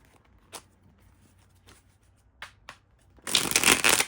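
Oracle and tarot cards being shuffled: a few soft riffles early on, then a loud, dense burst of rapid card shuffling near the end, close and with no voices.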